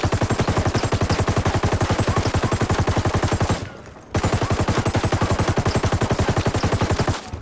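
A light machine gun with a foregrip fires in Ghost Recon Wildlands, two long loud sustained bursts of rapid evenly spaced shots separated by a short pause.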